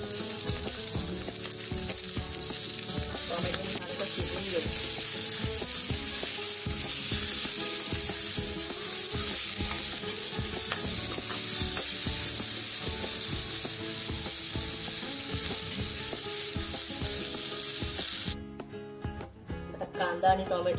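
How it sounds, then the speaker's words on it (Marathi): Onion and tomato pieces frying in a pan, a continuous bright sizzle with repeated spatula scrapes and stirring knocks, close and steady before dropping off near the end. "कांदा आणि टोमॅटो चांगलं भाजून झालेलं आहे।"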